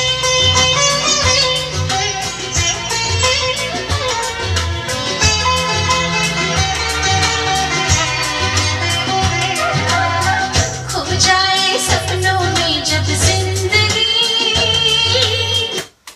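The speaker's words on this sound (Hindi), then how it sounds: "आपने दोस्तों कैसेट की आवाज़ सुनी" A cassette tape plays music through an old 1990s Ahuja 4040 SM cassette player recorder, loud and continuous with a pulsing bass line under full melodic layers, then cutting off abruptly at the end.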